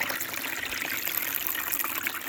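Fresh water pours steadily into a gold snuffer bottle, a close continuous trickling and splashing with no talking.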